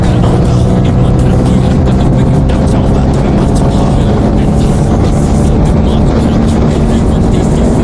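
An Aprilia RS 457 motorcycle rides at speed in Uttarakhand, its engine drone loud and continuous, heavily mixed with wind roar, with no pauses.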